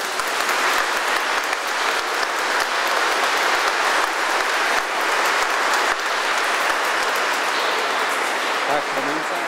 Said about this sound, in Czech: Zatleskejte jí.